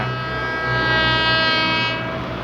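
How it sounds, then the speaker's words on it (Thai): A Hitachi diesel locomotive, no. 4505, stands at a station at the head of express train 171. Its engine drones with a steady, loud hum and layered tonal whine, close by and continuous. "ก็เป็นหัวรถจักรฮิตาชิ หมายเลขสี่ห้าศูนย์ห้า"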